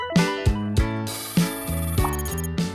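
A loud telephone ringtone plays a repeating pattern of bright, bell-like tones, about seven sharp strikes in under three seconds, with no talking.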